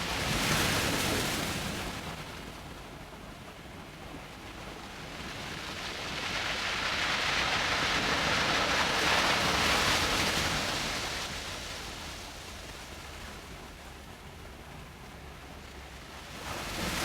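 Waves splash and wash over a rocky beach in Iceland at sunset, a steady, loud roar of surf and spray that swells in the middle and eases off, with wind noise and no voices.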